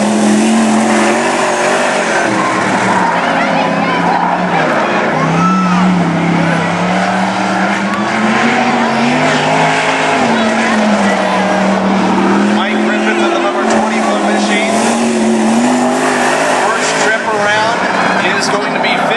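A wingless race car, number 21, laps a dirt track during national qualifying at Cottage Grove, its engine a loud continuous roar rising and falling in pitch through the lap, with an announcer talking over it.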